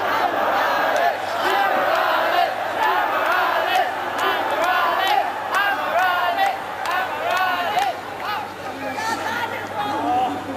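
A packed lucha libre crowd in an art gallery roars steadily through a tag match featuring Satanico and Ultimo Guerrero, with dense shouting, chants and cheers, loud and continuous throughout, and no clear lone voice.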